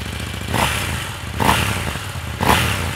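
A 2019 KTM 790 Duke motorcycle engine runs at idle close by, with three short revs or blips rising at evenly spaced intervals over a steady low rumble.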